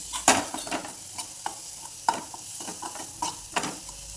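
Masala mixed with crushed peanuts is stirred in a pan, producing a series of soft irregular scraping strokes and light sizzling taps, close and fairly quiet, with no talking.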